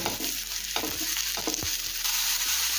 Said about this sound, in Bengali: মাশরুমটা তিন থেকে চার মিনিট সময় একটু ভেজে নেব